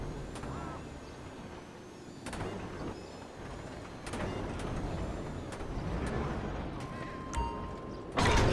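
Air brakes hiss on a heavy truck in Grand Theft Auto V, sharp bursts of released air over a low idling engine and clanking container-loading machinery, fairly close and alone with no talk.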